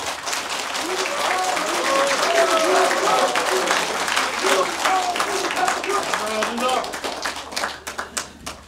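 Audience applause at a political talk show in Chuncheon, Gangwon Province: steady, dense clapping from a seated crowd with voices and cheers mixed in, holding for several seconds before thinning into scattered claps at the end.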